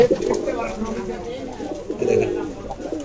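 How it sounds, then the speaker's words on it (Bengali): Pakistani highflyer teddy pigeons coo in repeated low, throaty bursts close by, under someone talking. "এই যে হলো পুরো কবুতর, সাইডে দেখাচ্ছি"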